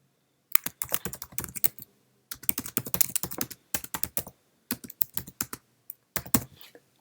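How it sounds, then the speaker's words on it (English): Keys clatter on a Mac computer keyboard in quick bursts of close, crisp typing, broken by short pauses. "And now let's just type something."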